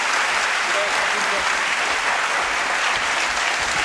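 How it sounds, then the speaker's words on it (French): A French television studio audience claps continuously, a loud, dense wash of applause filling the whole stretch, with a voice faintly audible beneath it. "Applaudissements pour Daniel."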